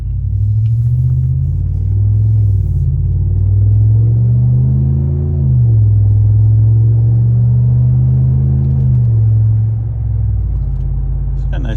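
A RAM 1500 pickup fitted with a Magnaflow 19433 muffler cruises along, heard from inside the cab as a steady, deep exhaust drone that rises and falls gently with throttle, continuous and fairly loud with no talking.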